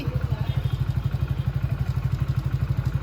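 A motorcycle engine idles close by with a steady, rapid thumping putter, loud and even throughout.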